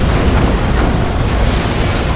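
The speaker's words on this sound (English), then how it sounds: "A good Manticore Strike, a really good Manticore Strike." A Manticore rocket strike in Dawn of War 2 lands as a heavy, sustained explosive roar, loud and close, filling the whole short moment with rumbling blast noise.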